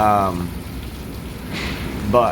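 Heavy hurricane rain pouring outside at night, a dense steady hiss of rainfall close by, with a person speaking briefly at the start and end.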